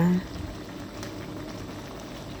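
Mushroom curry with cha-om bubbling at a steady boil in a pot, a dense continuous patter of bursting bubbles close by, with a brief clatter at the start.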